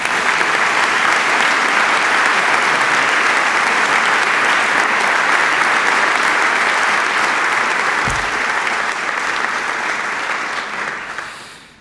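Sustained, loud audience applause from a large crowd welcoming Dr. Chuck Swindoll, steady clapping throughout that fades slightly near the end, with no talk over it.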